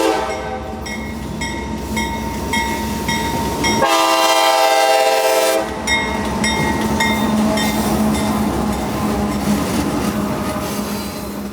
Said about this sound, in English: Today's iteration of B315 would still be utilizing a train set of GR1